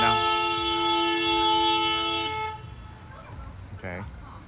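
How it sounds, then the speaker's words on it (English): Car horns honk outside a reopening Sheetz gas station in Johnstown, Pennsylvania, one long, loud, sustained blare that cuts off abruptly, followed by someone talking nearby. "people are honking right now"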